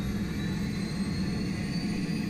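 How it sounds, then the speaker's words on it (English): An aircraft turbine engine spools up through the second stage of its start-up, heard as a steady, droning whine and low rumble close by, with no talk. "that's like a light up, initial light up. First stage, and there's the second stage."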